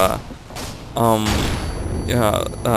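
AK-47 fire in the video game Modern Warfare 2, team deathmatch on the Skidrow map: sustained gunfire runs underneath a person talking for most of the stretch.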